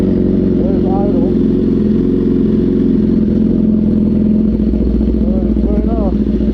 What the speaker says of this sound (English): There's idle.